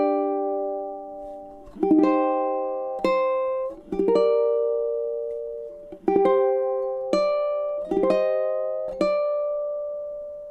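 Ukulele plays the first three bars of a chord melody arrangement of Sakura, with clear plucked chords ringing out in a slow, spaced rhythm, each note sustaining and decaying, close and alone with no voice.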